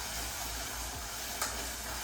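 Food sizzles steadily in a pan while being stirred with a spoon, a constant close frying hiss with one brief scrape partway through.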